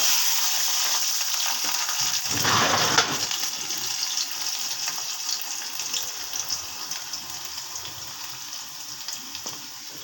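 Garlic frying in a pan, a steady bright sizzle with a louder crackling burst early on, then settling into a continuous even hiss.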